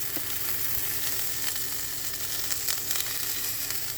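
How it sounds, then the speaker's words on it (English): Broccoli and asparagus sizzling in oil heated to 425 on an induction cooktop, a steady close crackling fry with scattered pops, alone and without talk. "Now I'm just going to let it simmer here for a while,"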